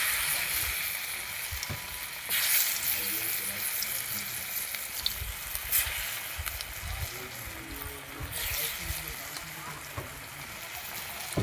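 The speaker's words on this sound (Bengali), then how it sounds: "তেলটা গরম হয়ে গেছে, তেল দিয়ে আর একটা একটা করে দিয়ে ভেজে নেব" Steady frying sizzle of fig dhokla pieces in hot oil, a continuous crackling hiss throughout with occasional soft clinks and faint background voices.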